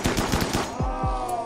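Rapid gunfire from the Rimworld video game during a mechanoid ambush, a quick burst of several sharp shots followed by two heavier booming reports, loud and close.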